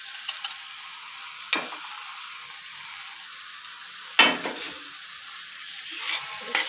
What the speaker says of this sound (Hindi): अब हम इसमें डालेंगे भिंडी जो हमने फ्राई करके रखी थी